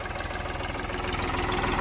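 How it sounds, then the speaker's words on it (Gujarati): A close diesel tractor engine chugs steadily on a farm field, a rapid low knocking rhythm with broad rumble, loud and continuous throughout. "અહીંયા આપણું ટ્રેક્ટર આવે"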